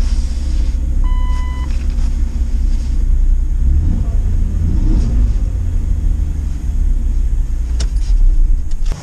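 Engine of a $500 Jeep Cherokee running close and loud, a continuous low rumble that swells with a couple of revs, while a short electronic beep sounds early on.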